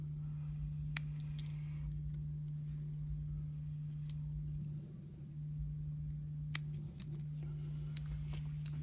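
Scissors snip through a swirly scrap of craft paper, a few sharp isolated cuts spaced several seconds apart over a steady low hum in a quiet room.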